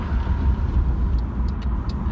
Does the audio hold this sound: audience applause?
no